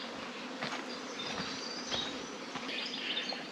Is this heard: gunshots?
no